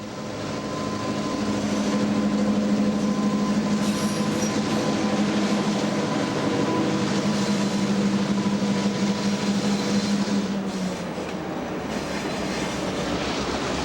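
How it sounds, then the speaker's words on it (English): B&O train number 54, the northbound Cincinnatian passenger train, rolling into Michigan Central Terminal on its last run: a steady, loud rumble of wheels and cars with sustained low tonal hums, easing slightly near the end. "B&O train number 54, the northbound Cincinnatian, arrives on its last run to the Michigan Central Terminal"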